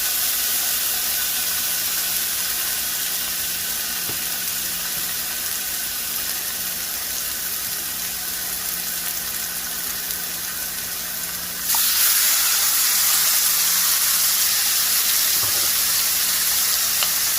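Pork chops for a Jamaican stew sear in a hot pan, a steady close hiss and sizzle that grows louder and brighter partway through as more chops are added.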